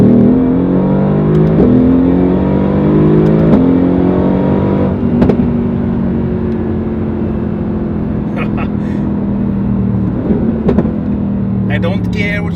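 A Mercedes-AMG GT R sports car engine drones loudly and steadily at close range, its deep tone swelling slightly as the revs shift before settling back.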